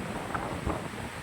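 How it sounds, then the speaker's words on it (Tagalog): Steady strong wind buffeting the microphone by the sea on a coastal ride in San Nicolas, Pangasinan, a continuous broadband roar with faint surf underneath and no voices. "Ang lakas ng hangin."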